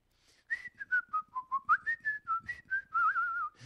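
Someone whistles a short tune up close, a dozen or so distinct pitched notes in a bouncy rhythm, ending on a longer wavering note.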